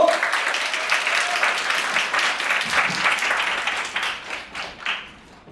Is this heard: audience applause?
yes